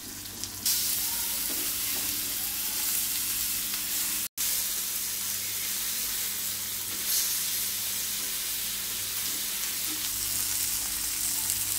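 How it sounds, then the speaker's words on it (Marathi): Rawas fish fries in a pan with a continuous close, even sizzle and crackle of hot oil that holds steady throughout, with one brief dropout and no talking. "फिश फ्राय होत आहे, दुसऱ्या साइडने पण चांगली परतली आहे।"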